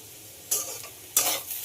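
Potato pieces frying in a pan after turmeric powder is added, with a steady soft sizzle broken by two loud bursts of stirring scrapes; no talking.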